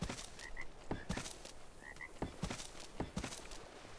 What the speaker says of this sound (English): Hear the frog